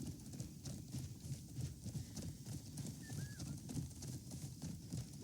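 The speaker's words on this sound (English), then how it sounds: "Why didn't you just take your horse up there like I did?" A horse's hooves clip-clop in a quick, even rhythm in the video game Crimson Desert. A brief bird call rises faintly above the footfalls.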